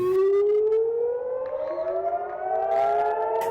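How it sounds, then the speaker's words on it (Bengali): A loud civil defense siren wails continuously during a drill in Bahrain, its tone slowly rising in pitch, sustained and alone without any voices. "এই মহড়ায় দুইবার সাইরেনের শব্দ হবে"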